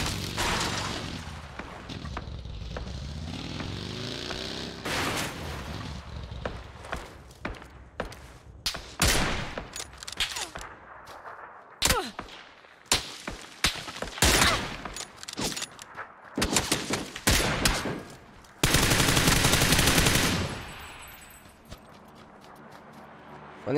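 Sniper rifle and other gunfire in the PUBG battle royale shooter, played in solo first-person mode, with many sharp loud shots and bursts cracking out irregularly amid game noise, closing with a sustained loud blast.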